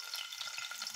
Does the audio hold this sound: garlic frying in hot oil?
yes